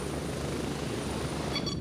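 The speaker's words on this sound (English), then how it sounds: "Helicopter landing in." A helicopter sets down in the Gray Zone Warfare video game, its rotor and engine a steady, loud, close roar that holds unbroken from start to finish.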